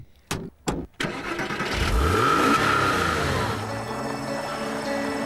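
A Porsche Boxster S sports car with its engine at the back: two or three sharp thumps come first, then the engine fires up and revs, rising and holding a loud, steady drone before settling.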